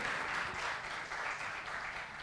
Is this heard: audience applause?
yes